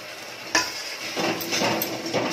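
Tomato puree frying with spices in a pan for lauki kofta curry, a steady close sizzle with a sharp scrape near the start and soft stirring scrapes throughout, no voices.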